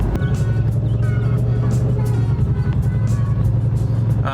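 A 1999 Mustang Saleen S281 heard from inside while driving, a steady low engine drone and road rumble throughout, with people talking over it.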